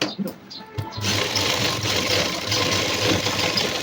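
An electric sewing machine runs a continuous double stitch along a work jacket, whirring steadily and close after a brief quiet start.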